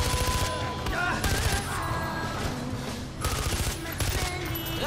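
Gunfire in Far Cry 4, sustained rapid automatic bursts rattling loudly and continuously over a busy backdrop of other battle noise, with brief gaps between volleys.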